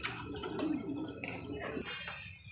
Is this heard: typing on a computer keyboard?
no